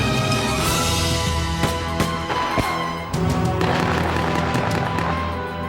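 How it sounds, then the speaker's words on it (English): Rapid bursts of loud automatic gunfire during a bank robbery crackle in quick succession, with sharp cracks and booms over a continuous dense rumble. "With automatic gunfire blazing"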